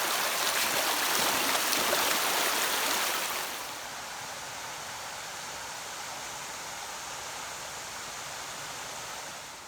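Mountain river water flows across the riverbed in Linville Gorge, a steady broadband rushing that is louder and brighter for the first few seconds, then settles into a softer, even wash with no talking.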